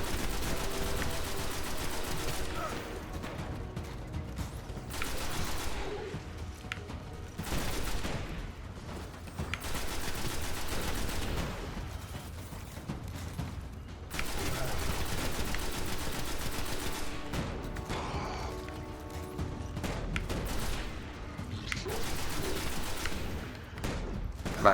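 Sustained gunfire in the sci-fi shooter Destiny, bursts of automatic weapon fire and single shots rattling almost continuously at close range, with brief lulls between volleys and no talk.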